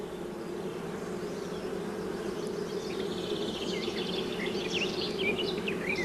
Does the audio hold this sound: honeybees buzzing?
yes